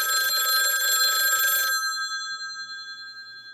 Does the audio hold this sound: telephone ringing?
yes